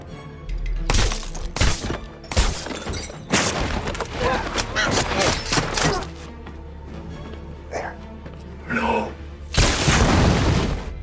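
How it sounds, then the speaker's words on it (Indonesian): Explosions and bursts of gunfire from a firefight in the action film Hunter Killer, with heavy booms and sharp cracks, a large blast closing the sequence, and a voice talking over parts of it. "Akibat suara ledakan"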